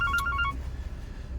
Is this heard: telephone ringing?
yes